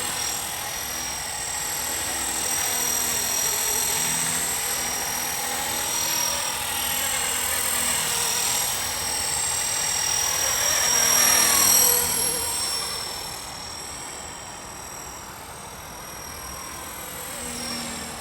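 A small model helicopter buzzes with a high, steady rotor whine, swelling louder as it passes nearer, then easing off, with no talking.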